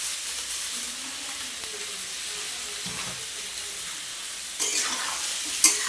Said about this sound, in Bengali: দিয়ে আবার ভালো করে নাড়িয়ে নিচ্ছি।